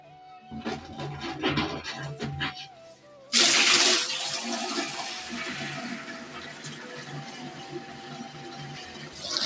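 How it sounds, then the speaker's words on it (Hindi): Water gushes loudly from a motor pump pipe into an old, torn, tape-patched container, foaming as it fills; the rushing starts abruptly and continues steadily after earlier quieter household sounds. "पानी जैसा कि भर रहे हैं उसमें बिल्कुल ही झाग हो रही है"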